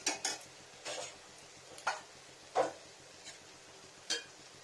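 Vegetables for shukto, including eggplant, flat beans, raw banana, bitter gourd and potato, frying in a pan: sparse, distinct scrapes and clicks of a stirring utensil over a faint, steady sizzle.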